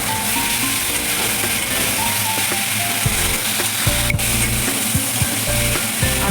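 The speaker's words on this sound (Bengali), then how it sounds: "হলুদ আর লঙ্কা রসুন বাটাটা এগুলো একটু ভালো করে কষে নেব" Garlic, onion, turmeric and chilli paste sizzles and fries in a pan, a steady loud hiss broken by repeated scraping stirs near the end, with no voices.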